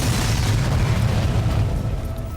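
A deep rumbling explosion effect, a loud sustained boom that rolls on and slowly fades with no speech over it.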